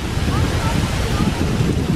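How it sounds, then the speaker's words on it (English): Water from the Ross Fountain in Edinburgh is blown by wind into a steady, loud rushing hiss mixed with buffeting wind on the microphone, continuous and close. "The wind's blowing some of the water over this way."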